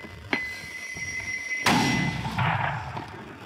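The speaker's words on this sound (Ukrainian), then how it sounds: "Постріл!" A Ukrainian artillery gun fires in combat: a sharp crack followed about a second later by a heavier booming blast that rolls and decays over the next couple of seconds.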